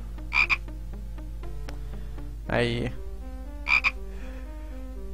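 A frog in the Simon the Sorcerer adventure game croaks in three loud, separate bursts over a humming game soundtrack, and a voice speaks briefly.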